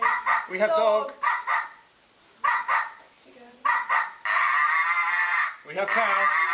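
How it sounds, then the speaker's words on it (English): Dogs bark in repeated bursts, fairly close and loud, some overlapping, mixed with people talking between and over the barks. "We have dogs."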